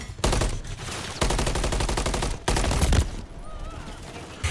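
Rapid bursts of automatic gunfire in Call of Duty MW3 multiplayer, with three dense volleys of shots separated by short gaps. The sound is loud and close, and quieter game sounds follow.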